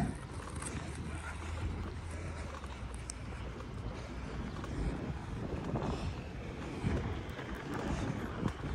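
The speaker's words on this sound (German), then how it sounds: "Oh, die Luft, der Wind." Wind blows outdoors in Turkey as a steady, broad rushing noise with gusty buffeting against the microphone, lasting the whole stretch and fairly faint, with no speech.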